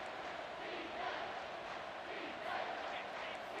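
Stadium crowd noise in College Football 25 rolls as a steady, distant roar of a large video-game crowd, swelling slightly at moments during a red zone defensive stand.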